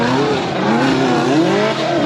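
Off-road rail buggy engine racing on a dirt park track in Kentucky, a loud continuous rough engine drone with shifting pitch as it pulls along, steady and close throughout.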